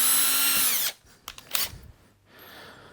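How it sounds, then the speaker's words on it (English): A power drill whines loudly at high speed for under a second while countersinking screw holes in wood, its pitch dropping as it stops, then a few clicks and a brief rustle. "let's just countersink them"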